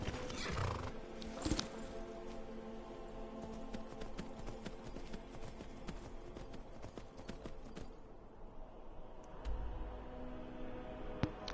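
A horse in the Skyrim video game, heard as snorting and a whinny at the start, then a run of hoof clip-clops and game ambience at moderate level, with no talking.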